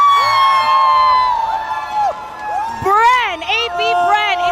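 Esports arena crowd at the M5 World Championship knockout stage cheering and whooping loudly, high excited shouts rising and falling over a steady roar, with voices talking throughout.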